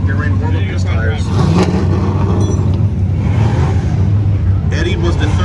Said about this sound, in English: In that Chevy Corvette there, get ready to warm up his tires.